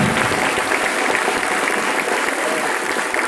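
Steady, dense applause from a church audience fills the room continuously for a few seconds, loud and even with no pauses.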